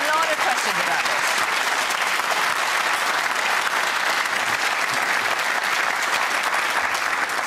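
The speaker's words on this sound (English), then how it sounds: "the size of that round of applause would indicate quite how much interest is in this subject" Studio audience at a live BBC Question Time broadcast from Lisburn, Northern Ireland, breaks into sustained, dense applause that stays loud and steady throughout, a thick wash of many hands clapping at once.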